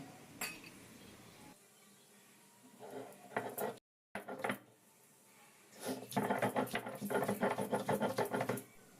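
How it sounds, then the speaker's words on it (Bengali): Spices with ginger, garlic and green chillies are ground on a shil-nora grinding stone, with scraping, knocking strokes in irregular bursts, a brief silent gap, then a denser run of rhythmic grinding at the end. "মশলাটা বেটে নেব শিলনোড়া নিয়ে নিয়েছি"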